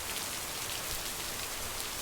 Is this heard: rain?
yes